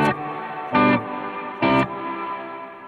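Guitar played through a bloom reverb set to a long decay, two short strummed chords swelling out of a sustained wash that keeps ringing between and after them.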